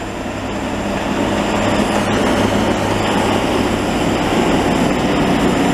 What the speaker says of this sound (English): it is the old blower